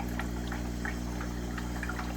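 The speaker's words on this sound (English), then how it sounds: "that's circulating the water, the aquarium water" Aquarium water flow system running at full speed, feeding tank water through a Corydoras breeding and hatching box: a steady low pump hum under a continuous soft trickle and bubbling of flowing water.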